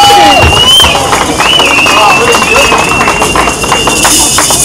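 Loud, steady audience applause for Greet van den Zavel at a comedy festival in Houthalen-Helchteren, a dense patter of many hands with crowd murmur and a voice mixed in.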